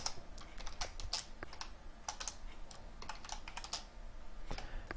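Fingers tap steadily on a computer keyboard while someone codes, giving an uneven run of close clicks that lasts throughout with no talking.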